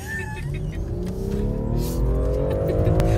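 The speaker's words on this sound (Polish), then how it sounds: "Niesamowite urządzenie to jest ten samochód." A car accelerates hard with the engine pitch climbing steadily as it gains speed, loud and close throughout, while voices talk faintly over it.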